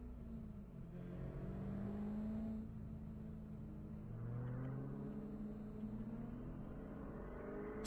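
Spec Corvette race car driving out onto the track at Virginia International Raceway, a distant, fairly faint engine drone that rises and falls as it accelerates and shifts, steady and alone with no voices.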